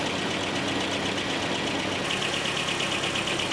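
A Nissan 720 Datsun truck engine runs steadily after a restart, a continuous close, even mechanical drone with a faint rhythmic knock and no talk over it.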